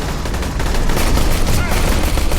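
Sporadic gunfire from the video game Battle for Sulaco, pistol-only mission, with dense overlapping shots and bursts crackling continuously at loud, steady intensity, with a voice faintly mixed in.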